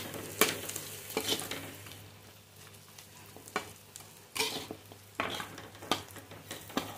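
Mutton for biryani stirred and fried in a pan with masala, a steady close sizzle broken by repeated scraping strokes of a spoon against the metal, with no one talking.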